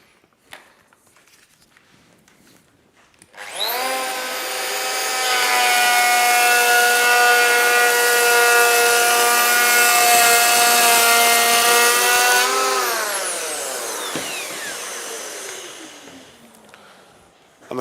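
A Festool EHL 65 EQ electric planer takes a 2mm cut through wood, with a loud sustained whine that holds steady for about nine seconds and then spins down, heard close up with no talk.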